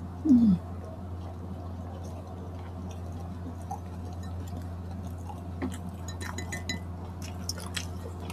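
Crunchy chewing of chicken onion rings during a Filipino food mukbang, with close, intermittent bites and mouth sounds over a steady low hum.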